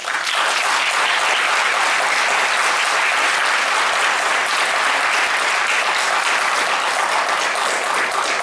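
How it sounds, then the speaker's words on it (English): A school concert audience gives a chorus sustained, even applause, many hands clapping loudly and continuously from start to finish. "Would you give them one more round of applause?"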